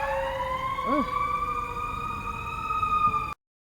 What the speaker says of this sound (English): So I just wanted to let the ambulance get further enough away.